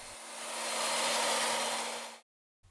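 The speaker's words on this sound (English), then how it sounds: "you can use a hairdryer to speed things up." A hairdryer blows on drying paint with a steady, loud, breathy whoosh and faint motor whine for about two seconds, then switches off abruptly into silence before a faint rustle.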